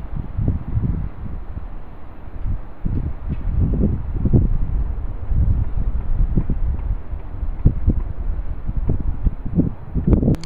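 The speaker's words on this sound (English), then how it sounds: "Foggy, cold, 54, very windy." Strong wind blows outdoors on a foggy, cold day, buffeting the microphone with loud, gusty, low rumbling that continues throughout and comes in irregular pulses.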